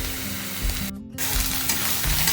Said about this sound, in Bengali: ভেজে এরা কাঁচা লঙ্কাগুলো দিয়ে দেবো